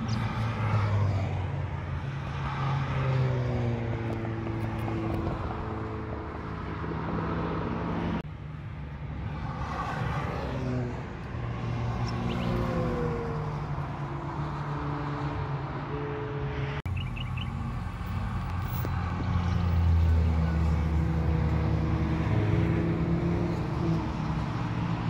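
Race cars, including BMWs, passing on the Lakeside Park raceway during a European car track day: engines roar and rise and fall in pitch as the cars fly by one after another, loud and continuous at a trackside distance.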